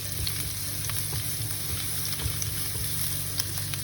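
Garlic frying in a pan for a Vietnamese warm beef noodle salad, a constant close sizzle with faint stirring clicks and no voices.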